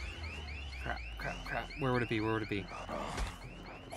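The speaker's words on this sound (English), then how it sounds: "I'm pretty sure when I broke the glass last time, there was an alarm" A repeating electronic alarm wails in a Dead Island 2 game scene after glass is broken, its rising whoops cycling steadily at moderate distance while someone speaks over it.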